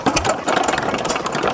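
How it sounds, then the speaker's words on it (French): A small engine drives an old wood-fired washing machine, running with a loud, close, rapid mechanical chugging and clatter that holds steady throughout, without any speech. "Alors vous voyez le petit moteur."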